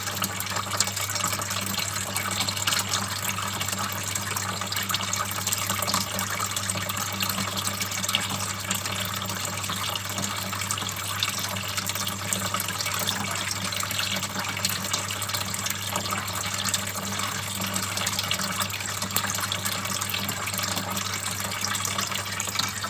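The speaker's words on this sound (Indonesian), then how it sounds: "Oke, kita akan tambahkan air." Water pours steadily into a turtle tank, a continuous broadband splashing gush that keeps a constant level for the whole stretch, with a low steady hum underneath.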